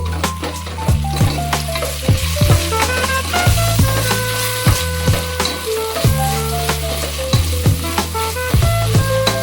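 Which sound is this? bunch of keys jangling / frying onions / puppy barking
frying onions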